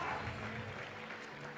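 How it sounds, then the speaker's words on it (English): Judges and spectators applaud a climber's finish at the Austrian Climbing Championships men's bouldering final. The clapping is a steady, moderate wash of sound with a faint voice beneath it. "Even the judges applauding that."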